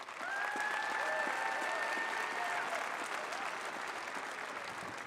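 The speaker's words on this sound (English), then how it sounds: "we want to give you a round of applause as well" An audience at the Wisconsin Regional 2016 opening ceremonies gives team sponsors a round of applause: dense, sustained clapping from a large crowd that stays steady and slightly eases toward the end.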